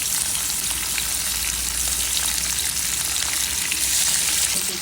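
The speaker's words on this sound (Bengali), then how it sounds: "দিয়ে দিলাম তেল, পেঁয়াজ, কাঁচামরিচ, টমেটো" Onion, green chilli and tomato sizzle in hot oil for a shrimp and Malabar spinach dish, a loud, dense, continuous frying hiss with no talking.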